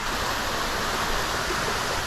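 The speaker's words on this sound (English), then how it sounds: "Here is the waterfall." Mountain waterfall in the volcanic Pangrango and Gede range of Indonesia, a steady, loud, broadband roar of falling water that fills the air continuously and close by, with no voices.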